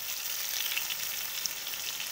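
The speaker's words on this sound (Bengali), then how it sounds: "আবারও খুব ভালো করে নাড়াচাড়া করে কিছুক্ষণ ভেজে নেব।" Potatoes and pointed gourd fry in a pan with salt and turmeric, giving a close, continuous bright sizzle that holds evenly throughout with small crackles.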